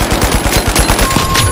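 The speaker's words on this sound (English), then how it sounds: "Shoot the bubble." Rapid automatic gunfire from The Finals video game, a loud close burst of evenly spaced shots filling the whole moment with no talking.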